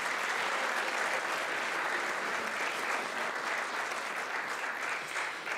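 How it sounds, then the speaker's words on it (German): Sustained, dense applause from a gala audience after a classical performance at a charity event in Frankfurt. The clapping stays loud and even throughout, with no voices standing out. "Bitte noch einen riesigen Applaus."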